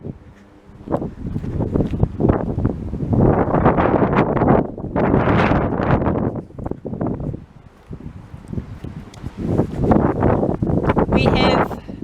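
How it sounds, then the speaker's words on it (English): Gusty wind roars through pinetum trees in a botanic garden in surging waves, rising and falling for several seconds, with buffeting against the microphone. "So yes, a rather windy Pinetum today."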